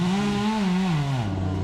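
A chainsaw cutting pine tree branches drones loudly and steadily up close, its engine pitch sagging slightly as it bites into the wood, with no talking over it.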